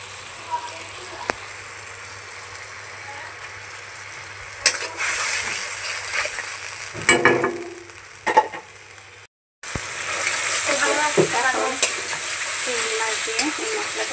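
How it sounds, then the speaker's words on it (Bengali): Shrimp with masala and turmeric frying in a pan, a steady sizzle with scraping stir strokes, a short gap of silence partway, then louder continuous frying. "চিংড়ি মাছ দিয়ে এই মশলাটা কষে গেলে"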